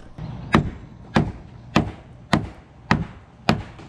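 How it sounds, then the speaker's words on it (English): Six sharp hammer blows on old nails land at an even, steady pace, each a crisp metallic-wooden strike close to the microphone. "let's hammer it"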